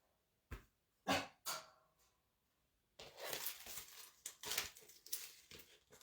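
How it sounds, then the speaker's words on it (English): A dog indoors in a craft room whines and yelps in short bursts, a few separate sharp cries followed by a longer run of restless whimpering and pattering, fairly close. "My dog is whining to go outside."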